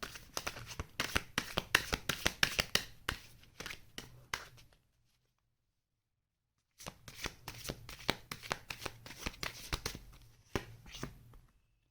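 A tarot card deck being shuffled close up, quick riffling flutters in two bursts with a pause of silence between them, a soft voice barely present.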